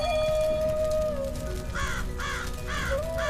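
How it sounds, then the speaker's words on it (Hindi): A cartoon crow caws four times in quick succession, loud and close, over a sustained musical tone in a quiet forest scene. "अचानक टुनटुनी चिड़िया को एक कौवे की आवाज आती है।"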